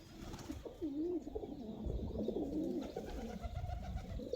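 Pigeons cooing around an old well in Malir, Karachi, soft repeated coos close by over faint outdoor ambience.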